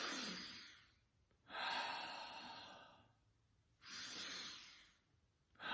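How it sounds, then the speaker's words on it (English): Child doing a breathing exercise, with slow, deliberate, breathy exhales and inhales, two long airy breaths and a third starting, soft and close in a quiet room. "She started doing one of her breathing exercises."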